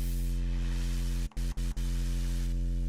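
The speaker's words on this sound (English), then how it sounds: "So now it's adding white noise to my sub and I can filter it" A synth sub bass drone with hissy white noise layered on top, steady and loud throughout, briefly cutting out in three short gaps near the middle.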